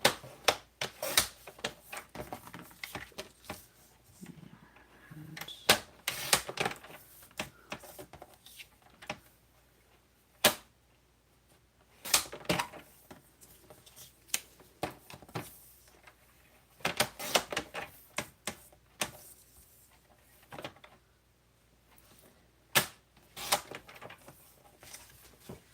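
Craft material being cut with straight cuts at a crafting table, sharp isolated snips and crisp clacks at irregular intervals, close and fairly quiet, with no talking.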